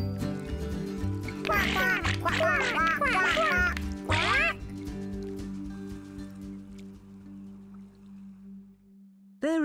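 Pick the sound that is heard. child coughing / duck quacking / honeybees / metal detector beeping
duck quacking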